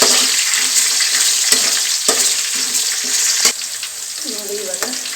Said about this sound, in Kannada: ಅದಕ್ಕಾಗಿ ಮೊದಲೇ ನಾನು ಫ್ರೈ ಮಾಡ್ಕೊತೀನಿ.